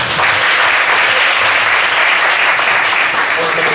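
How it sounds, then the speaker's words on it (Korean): Loud, dense clapping from a church congregation at a Friday night prayer meeting at Keunsup Malgeunsaem Church, continuous and even from start to finish. "박수 한번 하시겠습니다"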